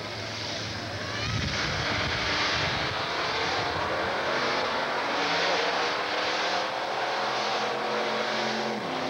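Drag racing at the 1990 Division 4 Finals, Texas Motorplex, a 5.5 Chevy against a Ford Mustang: loud, steady engine roar from the cars with a swelling rush, heard alone without talk.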